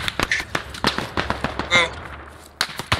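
Suppressing gunfire in the military shooter Squad: a string of sharp, irregular shots, some close and punchy, others fainter, cracking out in quick bursts with short gaps.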